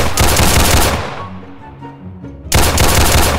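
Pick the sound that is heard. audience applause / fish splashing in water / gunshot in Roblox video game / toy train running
gunshot in Roblox video game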